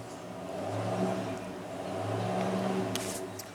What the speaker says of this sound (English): Got his Ford running finally. Sounds pretty good.